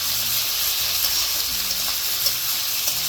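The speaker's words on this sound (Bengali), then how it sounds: "এবার এটা ভালোভাবে নাড়াচাড়া করে নেব।" Capsicum and peas stir-frying for vegetable fried rice, a loud dense sizzle and hiss running steadily throughout, close and without pause.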